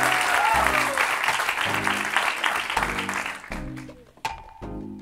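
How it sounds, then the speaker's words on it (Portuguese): A live stand-up comedy audience gives a loud burst of applause welcoming comedian Nuno Lacerda, with a strong beat of music throbbing underneath; the clapping thins out toward the end. "Senhoras e senhores, recebam com um forte aplauso o último meu convidado desta noite"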